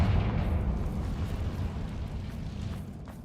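A Confringo blasting spell from Hogwarts Legacy detonates in a deep, rumbling explosion that fades slowly, a heavy low boom with a few crackles trailing off.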